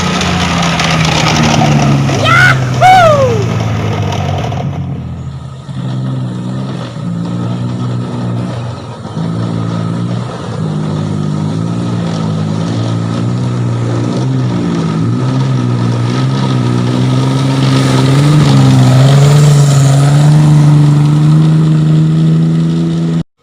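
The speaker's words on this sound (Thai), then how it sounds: "ซึ่งตอนนี้นะครับก็ได้เป็นการ ทดลองวิ่งครับ หลังจากที่เราได้ปรับตั้งจูนไฟไปแล้วครับ" Small motorcycle engine on a test run after ignition timing and spark plug gap adjustment, a steady mid-pitched drone holding for about twenty seconds and rising slightly near the end, preceded by a brief burst of revving.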